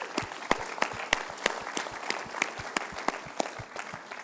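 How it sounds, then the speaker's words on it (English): Conference audience applauding the people building their community platform during a welcome address; a modest, scattered round of clapping with distinct individual claps, fairly quiet and steady throughout. "So I just want to give a huge round of applause to all the people building this thing."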